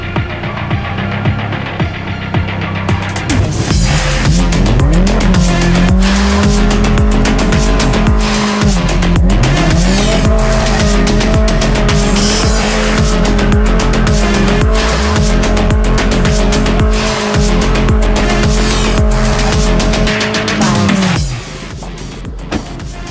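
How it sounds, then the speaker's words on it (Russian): A Moskvich 412 car doing a burnout, its engine roaring loudly as the tires squeal in a long sustained shriek with wavering pitch, close and continuous for about twenty seconds before dropping off. "время бурнаута"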